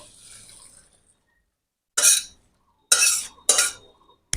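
Boiled drumstick greens are tipped into a basket and the cooking water pours off in three short splashing bursts, loud and close, with quiet gaps between them.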